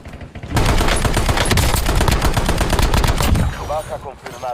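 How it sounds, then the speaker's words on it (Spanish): Rapid automatic gunfire in a Call of Duty match, loud and close, a dense burst of shots lasting several seconds before tapering into quieter game sounds. "¡Me disparan!"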